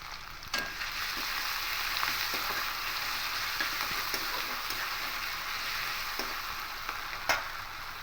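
Onion and ginger-garlic paste fry in a pan for a bottle gourd and prawn curry, giving a continuous close hiss and crackle with occasional clicks of a spatula and no talking.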